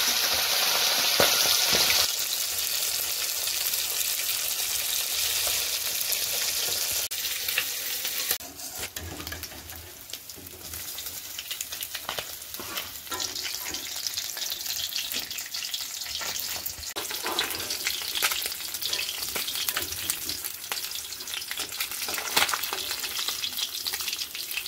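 Fish frying in smoking-hot oil in a kadai, a steady loud sizzle running throughout with occasional stirring scrapes and brief spits, no voices.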